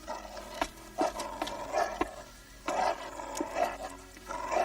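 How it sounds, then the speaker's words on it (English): Dogs in a Cinderella cartoon growl in short rough bursts that recur every second or so over a busy animated soundtrack, with no talking. "Hey, what are Zarel's dogs doing here?"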